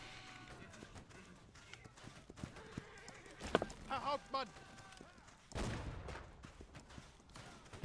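Horse hooves clip-clop in the Holdfast: Nations at War video game, muffled and moderately distant, with scattered gunfire and a couple of louder bursts in between.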